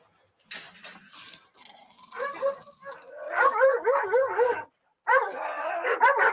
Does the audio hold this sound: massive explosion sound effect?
no